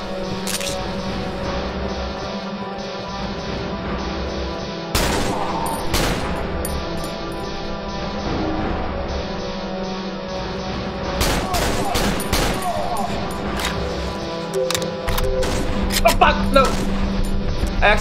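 Gunfire in the horror video game Cry of Fear, repeated shots and bursts cracking through a droning, dense game soundtrack, with a voice talking over parts of it.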